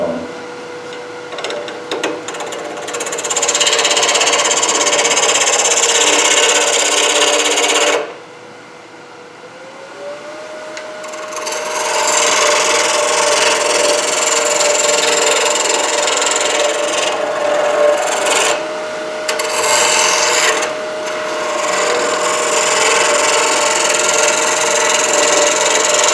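A wood lathe spins an offset wooden tool handle at around 1,000 RPM, giving a steady loud whirring hum with a constant motor tone that drops out briefly near the middle and then resumes, with no talking.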